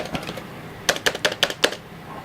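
Keys on a computer keyboard being typed on while testing an Altair 8800 emulator, a burst of about six sharp, distinct clicks close up, following a few softer taps, with no talk.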